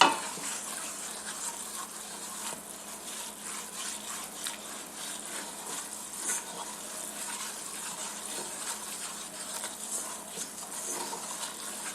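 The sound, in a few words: gumbo roux boiling while being stirred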